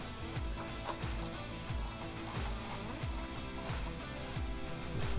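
Ratchet clicks in quick, repeated bursts while an O-ring oil drain plug is snugged down on a BOSS snowplow SR MAG engine; steady metallic ratcheting, close and clear, with no talking.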